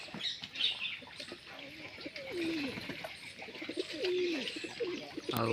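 A black pigeon in a farmyard gives repeated close, soft coos in rolling phrases, with a faint rustle underneath and no talking.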